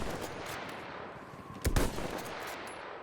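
Gunfire in the Battlefield 1 video game, heard as a brief loud burst of shots over a dense, constant battle rumble, with no talk.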